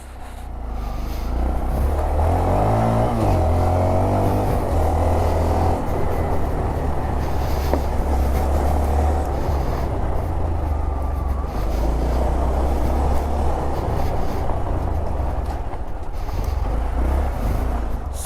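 A Honda Monkey motorcycle's small engine drones steadily and loudly while riding, a continuous close hum with slight rises and falls in pitch throughout.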